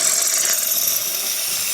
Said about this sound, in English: So we'll turn the valve.